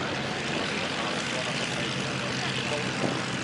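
Propeller aircraft fly in formation over the Duxford Battle of Britain air show, a broad, steady engine roar filling the sky with a slight swell near the end.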